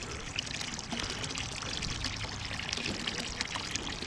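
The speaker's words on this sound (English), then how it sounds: "Pumping melted snow." Melted snow water gushes steadily from a pump hose into a backyard pool, a continuous close splashing pour without pauses or voices.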